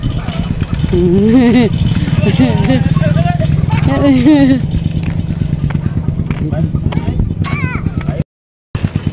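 A motorcycle engine putters steadily nearby while people talk over it, then cuts out briefly near the end.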